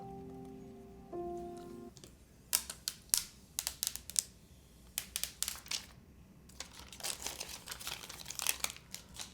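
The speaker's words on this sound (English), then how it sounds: "I will remove this piece of tape now" Tape being peeled off a QK80 mechanical keyboard during assembly, a run of crisp crinkling and ripping bursts that start and stop irregularly, close and clear, after a brief tonal beep at the start, no talking.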